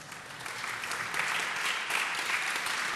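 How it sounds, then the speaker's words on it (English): A crowd claps steadily, the applause building slightly and holding at a dense, even patter throughout. "Can we have a round of applause for that"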